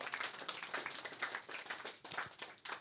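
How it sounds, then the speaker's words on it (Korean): A church congregation bursts into applause during a sermon, a dense patter of many hands clapping at moderate distance, steady for a few seconds. "우리 베드로에게 박수 한번 쳐줘요"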